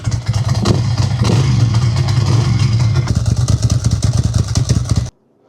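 A Ducati motorcycle engine runs steadily while warming up, a loud, close, throbbing idle with slight revving that holds for about five seconds before cutting off abruptly.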